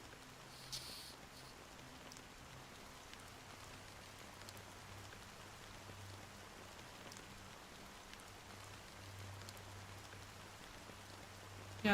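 Steady rain in the video game Honkai Star Rail, a soft even hiss of falling drops with a low hum underneath, quiet and unbroken with no voices.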